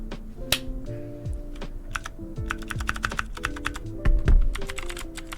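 Typing on a Clix Cotton Candy 60% mechanical gaming keyboard: a close, crisp run of clacky keystrokes in uneven bursts, with a few heavier thocks near the end and no talk.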